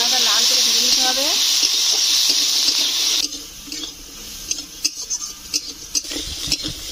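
Pieces of crab, seasoned with salt and turmeric, sizzling and being stirred in a pan of hot oil: steady loud hiss at first, then quieter crackles and scraping clatters of stirring.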